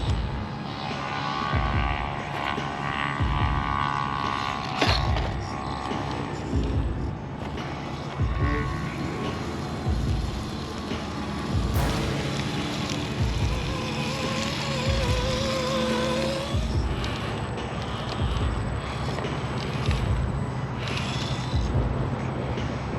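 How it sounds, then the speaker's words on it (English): A brushed motor drives an Axial SCX10 III Jeep CJ7 RC crawler, whining steadily with a rhythmic pulsing throttle that rises and falls in regular surges, close and fairly loud with no talk. "You see the better modulation with this brush motor."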